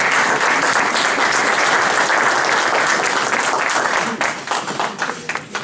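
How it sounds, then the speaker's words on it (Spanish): Loud, sustained applause from a conference audience for a speaker, a dense wash of clapping that thins out into scattered individual claps near the end. "A don Juan Pablo Droguet, un aplauso para él también."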